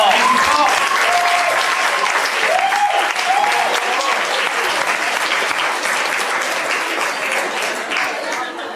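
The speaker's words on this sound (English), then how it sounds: "So let's give him a round of applause." An audience at a talent show applauds steadily, a dense wash of clapping that stays loud throughout with a few voices calling out near the start.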